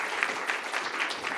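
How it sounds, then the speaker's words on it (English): Steady applause from a conference audience at a global technical and vocational education forum, a dense patter of many hands clapping at moderate volume. "Another round of applause."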